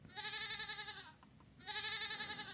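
A goat bleat used as a comic sound effect, two long wavering bleats separated by a short pause, loud and clear with no talk.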